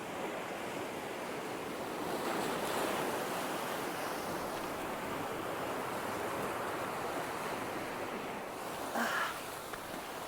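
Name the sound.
strong wind by the sea at Seaton Sluice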